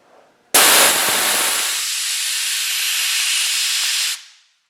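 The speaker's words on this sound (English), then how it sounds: "you can hear I've got the smoke machine on" A smoke machine forcing smoke into a leaking fuel tank on a 109 gives a sudden loud, steady hiss that starts abruptly, holds for about four seconds, then cuts off, alone without talk.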